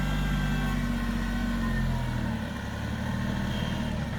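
A Kubota tractor engine runs steadily at idle, a close, continuous low drone with a slight dip in level partway through and no voices over it.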